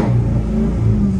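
A loud, close Mercedes SL500 R230 engine revs with a deep, raw roar, mufflers removed, rising and falling in pitch over a short moment.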